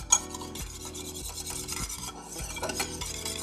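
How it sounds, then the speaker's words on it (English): A whisk beats a vegan egg substitute in a bowl, making quick rhythmic scraping and clinking strokes at close range, with a couple of short pauses between bursts. "So we'll whisk this up together."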